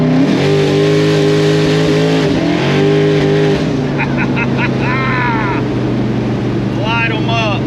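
A Ford F100 pickup over 50 years old pulls hard in a second-gear roll, its engine note climbing and rising loudly and steadily up close, with faint higher tones chirping in toward the end.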